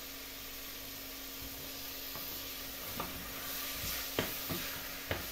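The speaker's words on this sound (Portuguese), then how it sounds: "Agora eu vou mexendo aqui até a carne descongelar. Vai batendo assim com a colher de pau" Frozen ground beef being stirred and tapped with a wooden spoon in a frying pan, a low steady sizzle broken by a few sharp knocks of the spoon against the pan toward the end.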